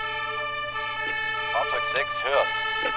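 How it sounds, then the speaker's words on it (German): Wailing emergency vehicle siren in the Emergency 4 video game, Langenselbold mod, with tonal sweeps rising and falling over a steady background hum, moderately loud and continuous. "Haben man überall nur Martinshorn hier."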